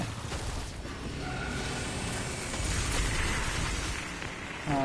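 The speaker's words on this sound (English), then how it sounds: "Glorious Michael Bay explosions, right?" Explosions rumble and crackle in the PS4 Pro video game Spacelords, a dense, continuous roar of blasts and debris during combat, with no talk.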